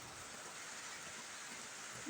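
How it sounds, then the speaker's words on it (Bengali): Rain falls steadily in a dense, even hiss that stays constant throughout, with no other sounds. "বৃষ্টি পড়ছে বৃষ্টি পড়ছে টিপ টিপ টিপ টিপ বৃষ্টি পড়ছে"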